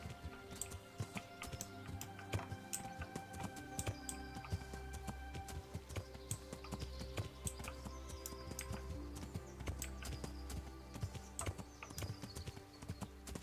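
Steady clip-clop of horse hooves in the video game Kingdom Come: Deliverance plods along in a continuous rhythm over a constant background of music and ambient tones.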